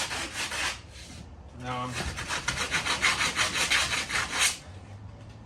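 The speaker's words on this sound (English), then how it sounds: "I've got some 80 grit sandpaper, and I'm just going to start sanding all this excess off here." Sandpaper rasps rhythmically across the excess fibreglass on a VW Manx buggy body being restored, using 80 grit paper. The strokes are close, steady and scratchy, after a brief spoken word.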